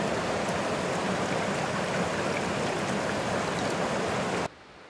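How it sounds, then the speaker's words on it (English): A small stream running high rushes in a dense, continuous wash of water close to the microphone and then drops off abruptly just before the end. "this little small stream you can probably hear going in the background"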